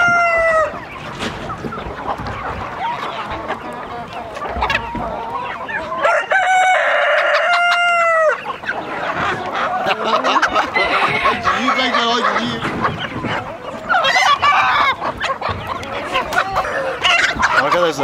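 A large, crowded flock of chickens clucking and cackling close by, with a rooster crowing clearly several times over the busy flock noise.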